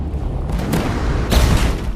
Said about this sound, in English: Ah, several cannons!